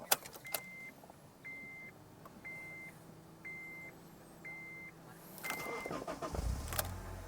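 A Honda Odyssey RB1 chimes with a series of regular beeps, then the engine cranks and starts into a low running rumble near the end.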